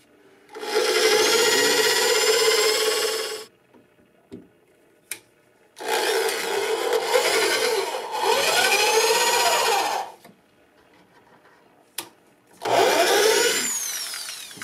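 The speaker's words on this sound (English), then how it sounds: "I'm just going to drill somewhere." A power drill whirs through wood in three long bursts, each a few seconds, separated by quiet pauses with a couple of brief clicks between.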